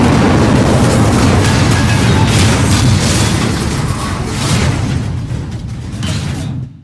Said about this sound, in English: The TNT just exploded the entire studio